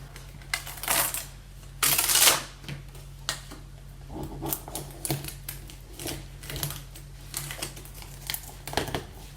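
A ScanNCut cutting machine unloading its cutting mat, giving a series of close mechanical clicks, rattles and short whirring feeds in irregular bursts over a steady low hum.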